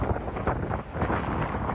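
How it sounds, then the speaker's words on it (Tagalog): Strong typhoon wind from Typhoon Opong, lashing Oriental Mindoro together with heavy rain, roars as a steady, loud, broadband rush that buffets the microphone continuously, with no voices. "Malakas na buhos ng ulan na sinabayan ng malakas na hangin ang humagupit sa Oriental Mindoro."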